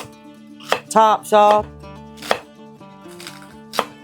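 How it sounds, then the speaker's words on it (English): A knife chops old celery stalks on a cutting board in a home kitchen, giving a few sharp, close strikes spread across the moment, with a person talking in between. "I'm just going to cut up this celery"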